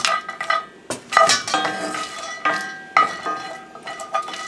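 Whole hard spices like black cardamom and star anise rattle and clink as they are stirred while roasting in a pan, with irregular scraping strokes and metallic taps close up.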